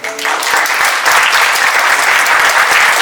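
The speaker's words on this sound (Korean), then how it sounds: "네, 박수 해주시기 바랍니다" A crowd at a mentor-mentee evening gathering bursts into loud applause after a brief pause, the clapping quickly swelling into a dense, sustained roar that continues to the end.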